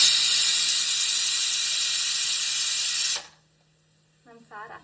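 Cooked pasta is poured from a pot into a perforated colander set over another vessel, a loud steady rush of water and hiss for about three seconds that cuts off abruptly, followed by quiet with faint voice-like sounds.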